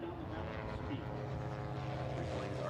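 A racing biplane pulls up after the finish of an air race heat. Its propeller engine drones steadily at a distance, under an announcer's commentary.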